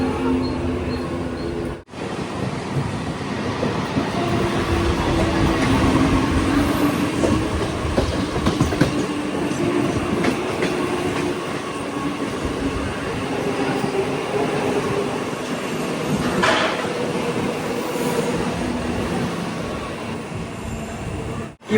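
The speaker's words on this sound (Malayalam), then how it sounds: "ലോക്കൽ ട്രെയിൻ കയറി നേരെ ചർച്ച് ഗേറ്റിലേക്ക് പോവുകയാണ്" Riding aboard a Mumbai local train from Mumbai Central to Churchgate: a continuous loud rumble with clickety-clack from the wheels over rail joints and brief squeals, close and enveloping throughout.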